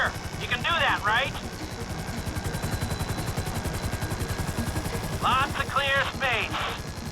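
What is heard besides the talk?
helicopter hovering in Grand Theft Auto 5 video game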